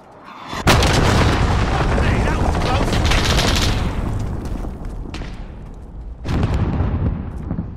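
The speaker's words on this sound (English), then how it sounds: "Enemy cruise missile incoming." A loud, close enemy cruise missile strike in a video game, with a roaring barrage of blasts and rumbling impacts, then a fresh explosive burst near the end.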